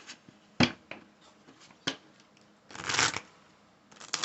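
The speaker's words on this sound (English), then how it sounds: "let's go ahead and shuffle the deck." Cards are riffled and tapped in short bursts, sharp flicks followed by a longer shuffling rush, close and fairly quiet.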